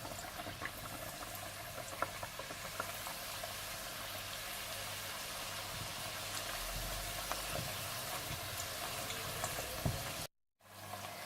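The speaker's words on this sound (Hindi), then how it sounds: "इसके बाद आप इन्हें फ्राई कर लें।" Papri dough pieces frying in hot oil, a steady, soft bubbling sizzle that runs continuously and fairly faintly with no talk, then cuts out briefly near the end.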